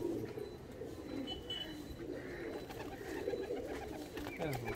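Several Andhra high flying pigeons keep up a low, overlapping cooing in their loft, a soft continuous murmur of throaty calls at close range with faint chirps and shuffling.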